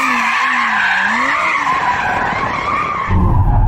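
A new rear-wheel-drive Audi R8 sliding through a turn. Its tires give a loud, sustained, wavering squeal close by, joined by a rougher roar near the end, with no talk.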